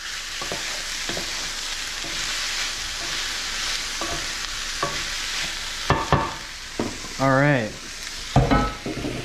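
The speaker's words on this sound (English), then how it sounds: "Since the pan's really hot, it will kind of evaporate quick, so you want to uh, stir that stuff around." Vegetables stir-fry in a very hot pan, giving a loud steady sizzle broken by clanks of the utensil against the pan and, near the end, a short squeak and scrape as the food is pushed around.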